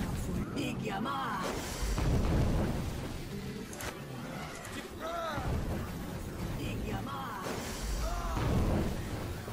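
Spell explosions in Neverwinter Nights 2 burst repeatedly amid a dense, rumbling battle din, with swelling booms and crackles under someone talking over the action.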